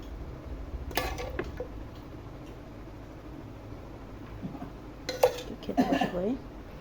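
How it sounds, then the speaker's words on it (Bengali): Beef bones being served onto a plate with utensils, giving scattered metallic clinks and scrapes, with a quick burst near the start and a louder cluster near the end, faint background between and quiet talk nearby. "এখন প্লেটে নিয়ে নিই আমি সব খাবো আজকে"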